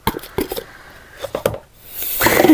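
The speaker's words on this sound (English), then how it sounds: "just scraping up any of the last of the butter" A utensil scrapes the last of the butter from a dish while baking a cheesecake, in several short, separate scrapes and taps, then a louder, sustained rub at the end.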